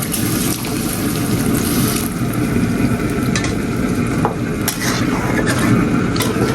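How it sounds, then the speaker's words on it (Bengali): Hot water is poured into lentils being cooked in a pan, giving a loud, steady sizzling rush that carries on without a break for several seconds. "গরম পানি আমি একবার দিয়ে দেবো টোটালি"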